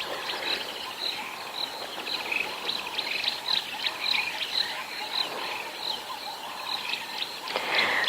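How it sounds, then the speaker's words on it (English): Frogs call steadily at sunrise in the African bush at Djuma on a safari drive, a dense chorus of repeated croaks mixed with chirping insects and a few birds, moderately distant with no talk. "Actually still hear some frogs."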